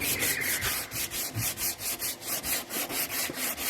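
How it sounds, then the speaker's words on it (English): Rhythmic back-and-forth scraping of an 80-grit sanding block over Bondo body filler on a dented car door, steady strokes repeating about four times a second, close and alone. "Now I have 80 grit on a block."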